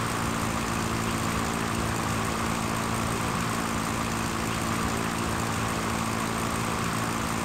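A Cessna propeller plane climbing in the Pro Pilot flight simulator, its engine a steady, loud drone with a buzzing propeller hum that holds constant throughout, with no voices.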